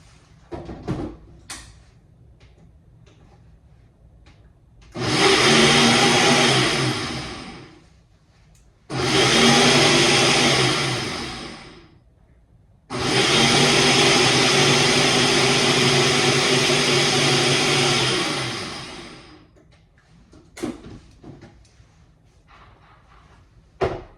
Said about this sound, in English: So y'all about to get the blender while I blend this second can.